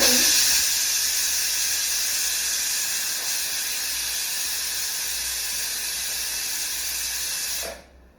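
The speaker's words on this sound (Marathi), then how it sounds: "कुकरची शिट्टी झालेली आहे." Pressure cooker whistle releasing steam while cooking chickpeas, a loud continuous high-pitched hiss that holds steady for several seconds before cutting off abruptly.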